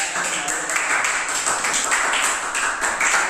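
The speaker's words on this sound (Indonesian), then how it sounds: "saya beri tepuk tangan kepada kelompok 3" Schoolchildren in a classroom clap for a student group, a continuous brisk patter of many hands at close range with some voices mixed in.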